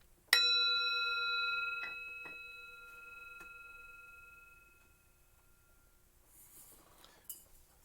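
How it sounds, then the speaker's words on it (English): A meditation bell is struck once, giving a bright, clear ring that fades slowly over several seconds in a quiet room, with a few faint taps near the end. "So I'm going to ring the bell now."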